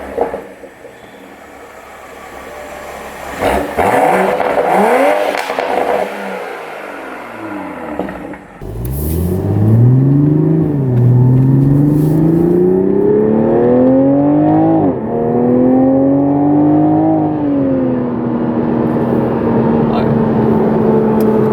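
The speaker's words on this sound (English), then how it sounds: "Let's go ahead and take the car out for a ride." A 2021 Toyota Supra engine revs hard and accelerates, its pitch climbing through gears, loud and close, with rushing road and wind noise.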